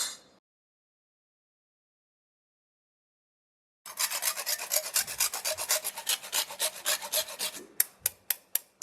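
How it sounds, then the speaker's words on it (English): Hand grating after cracking a shell for cookie baking: a steady run of dense rasping strokes close up, ending in a few sharp separate scrapes, with no talk. "I want to first crack the shell and then I'm going to grate it."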